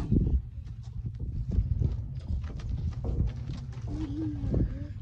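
Hooves clip-clop unevenly on the ground at close range, with brief soft voices and faint animal sounds in the background.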